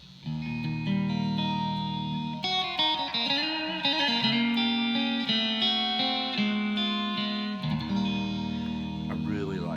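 An electric guitar played through a Blackstar Core ID 40 amp with reverb rings out in sustained chords and notes, washed in spacious echo and chorus-like shimmer, loud and continuous.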